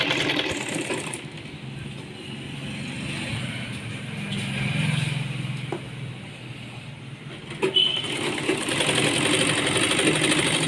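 A sewing machine stitches a straight seam along a Punjabi dress trouser leg, a close mechanical whir that runs continuously. A voice speaks over it at times.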